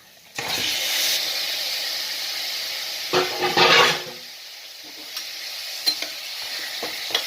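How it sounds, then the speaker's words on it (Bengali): Chicken stirred and fried in a pan over low heat, a loud burst of sizzling that fades, then a second flare of scraping and frying, followed by quieter spatters and light clinks. "চিকেনটাকে ভালো করে নেড়ে দিলাম"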